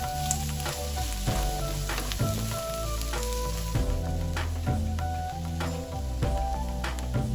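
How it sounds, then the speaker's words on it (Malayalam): Chopped onions sautéing in hot oil for ulli theeyal, a loud steady sizzle close by, broken by repeated clunks and scrapes of stirring throughout. "നമ്മൾ നേരത്തെ അരിഞ്ഞു വെച്ചിരിക്കുന്ന ഉള്ളി ഈ എണ്ണയ്ക്കകത്തേക്ക് ഒന്ന് ഇട്ട് വഴറ്റിയെടുക്കണം."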